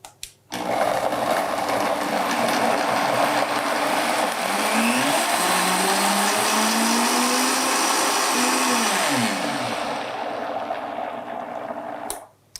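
A blender purees a miso salmon sauce with cilantro, whirring loud and close in a steady motor drone that shifts pitch with speed changes, then cuts off abruptly near the end.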